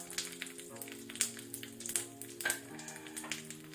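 Urad dal frying in oil with mustard seeds and dried red chillies on a low flame, a soft, close sizzle dotted with sharp pops and crackles at irregular intervals.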